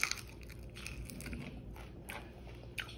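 Close, crisp bites and crunching into air fryer chicken wings, several separate crunches over a few seconds with chewing between them, no talking.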